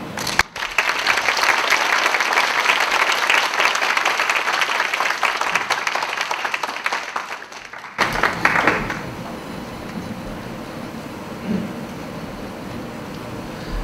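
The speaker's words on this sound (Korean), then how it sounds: "차장님 나오실 때 뜨거운 박수로 환영해 주시기 바랍니다" A large audience at a university special lecture claps loudly and steadily to welcome a speaker, then the applause cuts off abruptly and gives way to quieter room noise and faint murmuring.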